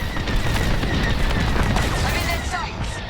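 Rapid starfighter cannon fire blasts in the Star Wars: Squadrons space combat game, a dense, continuous volley of loud laser shots with rumbling impacts and no pauses.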